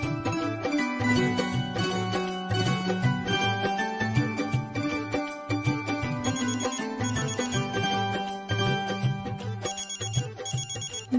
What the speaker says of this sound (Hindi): माधव बाबू का फोन